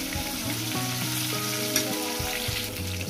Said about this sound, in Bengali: মাছগুলো আমার ভাজা হয়ে গেছে বন্ধুরা